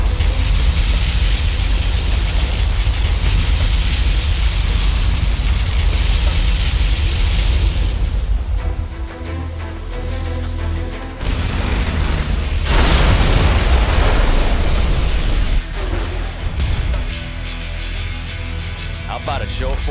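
Particle cannon blasts and explosions in a Command & Conquer real-time strategy battle: a loud, dense roar of booms and bursts that fills the whole stretch, with short dips and renewed blasts, while unit voice lines sound over the action.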